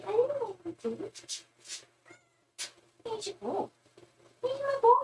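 A pet cat gives several short meows between a person's affectionate talk, the mews close and fairly clear and rising through the middle of the exchange.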